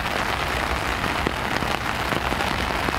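Heavy rain pours down steadily in a park, drumming on an umbrella overhead, a dense close hiss with scattered louder drops and no talking.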